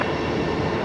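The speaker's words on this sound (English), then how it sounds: "There's the Singapore A380 again, just taxiing along." A Singapore Airlines A380 taxiing at Brisbane Airport gives a steady, close, loud engine roar and whine that holds without a break through the short moment, with no talk over it.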